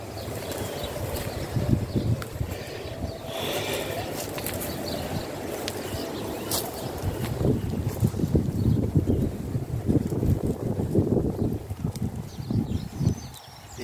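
Gusty wind blowing through an outdoor home patio with flowers and a small lemon tree, a rough rumbling buffeting that swells and eases in waves, louder toward the end, with no talking.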